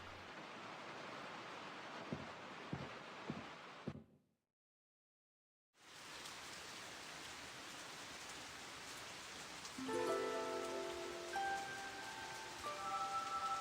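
Steady rain falls in the video game Tales of Graces f, a broad continuous hiss with a few low thumps early on, a short gap of silence, then more rain with a soft melodic chime entering near the end.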